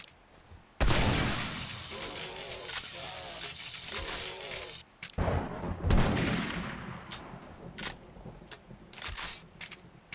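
Gunshots in the video game 7 Days To Die: several loud, sharp blasts spaced a few seconds apart, each with a ringing tail, with a voice speaking between them.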